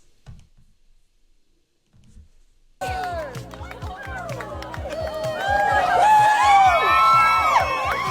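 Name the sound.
audience cheering the couple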